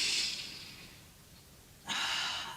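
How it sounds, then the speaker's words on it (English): Slow breathing during a classical Pilates mat stretch with a rounded back: a soft breathy inhale fades, a quiet pause follows, then a fresh airy breath returns close by with no talking. "Breathing."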